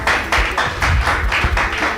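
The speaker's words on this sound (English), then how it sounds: "Clap now." Rhythmic clapping from an audience at a real estate event, steady repeated claps close and fairly loud, with no talking over them.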